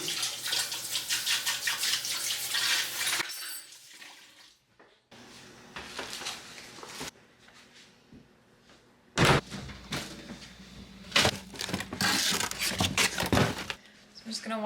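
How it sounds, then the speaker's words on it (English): Kitchen sink tap running in bursts while potatoes from a farmer's market are washed, loud rushing water interrupted by quieter gaps with clunks and handling noises. "I'm just gonna wash some potatoes from the farmer's market."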